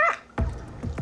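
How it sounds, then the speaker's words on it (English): At a veterinary clinic in Bondi, a young companion dog gives a few sharp barks and yips close by. A high yelp comes first, followed by several quick barks in the busy room. "companion dog Cujo is getting a thorough health check"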